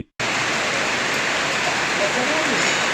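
Sudden heavy rain pouring down in a city centre, a dense, loud, steady hiss of downpour beginning abruptly after a brief silence and continuing without a break.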